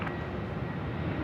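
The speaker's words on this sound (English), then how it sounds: "we're following the Australia Post A321 freighter now departing on runway 16 right" An Australia Post Airbus A321 freighter departs runway 16 right at Sydney Airport at night, its jet engines giving a loud, steady, broadband roar with no break.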